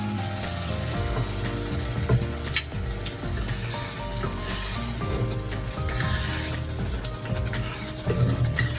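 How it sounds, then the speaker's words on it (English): Egusi fries in a pot with a steady sizzle, overlaid by repeated clicking and scraping stir sounds that continue throughout. "I like to fry my egusi very well."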